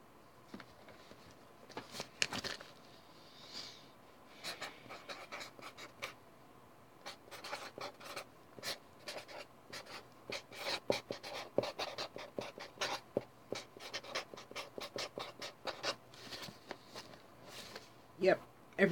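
A pen scratches across cardboard storage boxes in a quiet room, giving short, uneven bursts of close, faint scribbling with brief pauses between strokes.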